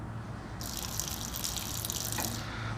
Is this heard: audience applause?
no